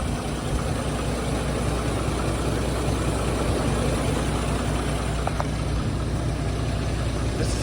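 A steady, low rumble from the 7.8 liter Duramax inline-six diesel of a 2006 GMC TopKick C7500 box truck at idle, constant and close, with no talking over it.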